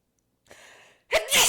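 A single sharp sneeze from someone with allergies bursts out loud and close, after a softer breathy intake of air, in a quiet room.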